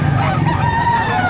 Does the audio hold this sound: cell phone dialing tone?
no